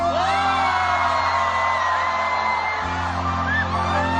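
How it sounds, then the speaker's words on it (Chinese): Audience at a Mandarin pop concert screaming and whooping after a song, a loud, sustained crowd roar with rising and falling cheers and shrill whistles over a steady musical hum. "尖叫声！"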